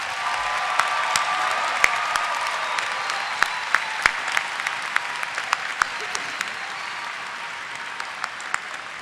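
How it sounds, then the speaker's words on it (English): Sustained applause from a large audience honoring graduates at a university commencement ceremony, a steady wash of clapping with individual sharp claps standing out throughout. "So one more round of applause for all of tonight's graduates."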